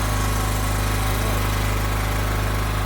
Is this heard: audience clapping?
no